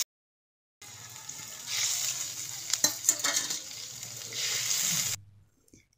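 Potatoes fry in a pan, a crackling sizzle that swells and fades, with clattering stirring strokes in the middle, close by and with no voices.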